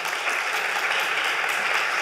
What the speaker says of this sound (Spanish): mi compañero periodista Javier Muñoz, para quien pido un fuerte aplauso.